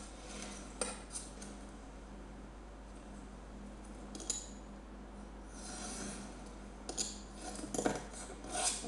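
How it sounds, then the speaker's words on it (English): Scraping, clinking cuts as card panel edges are trimmed down the long sides for a magic card, a few millimetres at a time; close, quiet, irregular strokes with a few sharper snips and no talking. "And you trim some off this one. Down the 2 long sides, again, just a few millimetres on each."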